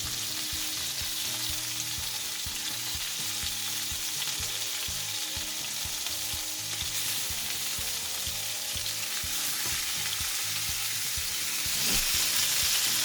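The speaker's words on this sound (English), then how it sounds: "We leave it for about 3 to 5 minutes on each side so that it gets slightly browned" Chicken pieces browning in a pan for a creamy Parmesan chicken dish, giving a steady, close frying sizzle throughout with faint clinks of stirring and no talking.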